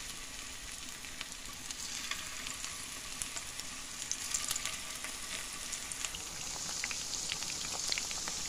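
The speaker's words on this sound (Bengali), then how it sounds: "এদিকে ক্যাশনাট সালাদের জন্য বোনলেস চিকেনগুলো ভাজা হচ্ছে" Boneless chicken pieces frying in hot oil in a saucepan over medium heat, a continuous close sizzle with sharp popping crackles that grow busier toward the end, no talk.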